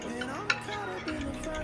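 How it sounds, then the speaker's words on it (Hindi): Eggs with chili, salt, coriander powder and cumin are beaten in a bowl for an omelette, making light scraping and clinking stirs with one sharper clink, under a steady background hum. "हमने अपना अंडा फेंट लिया"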